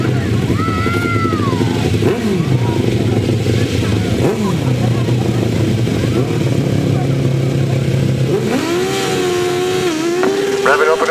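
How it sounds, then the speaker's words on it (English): Several grasstrack sidecar motorcycle outfits rev hard and pull away together at the start of a race, engine notes rising and sweeping in pitch, loud and close, with a commentator talking over the noise. "Revving up and away, the three crews getting away there."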